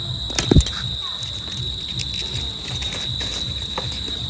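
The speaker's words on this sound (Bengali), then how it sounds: "এখানে কি আরেকটা কিছুর আওয়াজ পাওয়া যাচ্ছে ঝিঝি পোকার আওয়াজ বৃষ্টি মনে হবে" Crickets chirp in a steady, unbroken high drone at an outdoor riverside picnic, with a brief rustle and knock near the start and no voices.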